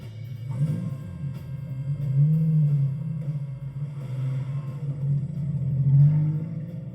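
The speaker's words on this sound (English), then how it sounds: "the Drivers' Championship falling to Klemser in his Capri number 1 as he cruised down the finishing straight" A Ford Capri race car drives down the finishing straight, its engine a steady low drone that swells and eases as it passes, moderately loud, with no one speaking.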